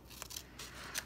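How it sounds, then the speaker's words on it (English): Scissors snipping a small strip off the top of a paper envelope, a few quick crisp cuts close up and quiet, with no talking. "I'm just going to take my scissors here and I'm just gonna cut off a tiny amount at the top"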